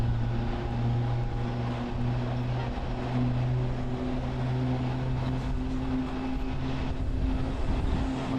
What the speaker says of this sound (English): an amazing shot as that 767 lands as a 777 bound for Paris takes runway 16 left